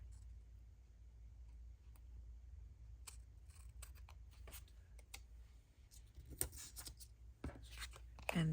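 Scissors snip through paper while an envelope pocket tag is being made for papercraft, giving a quiet series of short, crisp cuts that bunch together near the end, close up and with no voice.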